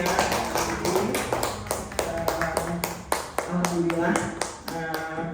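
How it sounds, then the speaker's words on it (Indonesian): A small group claps for a participant at the close of a school teacher-training discussion, a loose rhythm of distinct claps with voices talking over them. "Kita beri tepuk tangan untuk Cepi ya"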